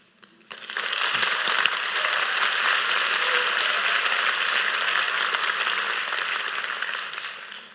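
Sustained audience applause after a talk on stage, a steady dense wash of many hands clapping for several seconds, loud and even before tapering slightly at the end.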